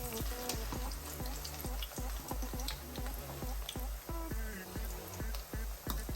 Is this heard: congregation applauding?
no